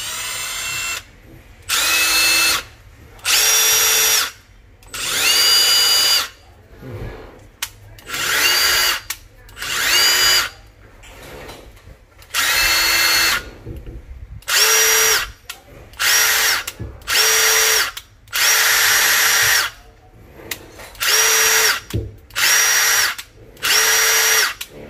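A serviced power drill runs in its final test before being returned, a steady whine in repeated bursts of a second or two, some at different speeds, loud and close with no talking.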